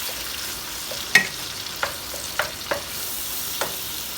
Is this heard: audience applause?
no